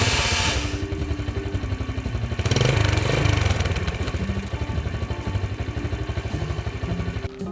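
A 2007 Yamaha New Vega R motorcycle with a stock engine idles nearby in a steady, rapid putter, briefly swelling a little louder before settling back, with a faint mechanical clatter underneath.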